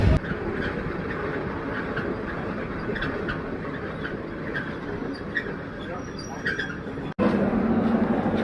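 Inside the moving Lalmoni Express train in Bangladesh, a continuous low rumble with rhythmic rattling and clacks, a person talking over it, and a sudden jolt near the end.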